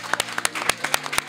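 A few people clap along in uneven rhythm, sharp individual claps spaced about a quarter second apart over a background music tone.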